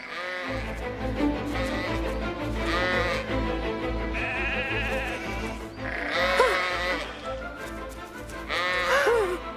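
Sheep bleat repeatedly in wavering calls over a steady low hum, several animals sounding close and loud in turns across the stretch.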